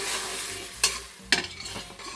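Lamb with salt, chili and hing sizzles loudly in a pan on high heat for a fenugreek lamb curry, a constant broad hiss broken by a couple of sharp scraping stirs, close up with no voices.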